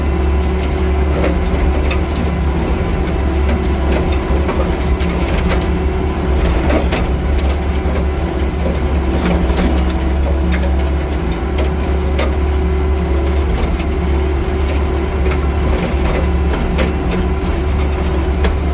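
A hydraulic brush cutter attachment from Mid State Attachments runs on its carrier machine, its engine revving in a loud, steady, low droning roar with no talk over it.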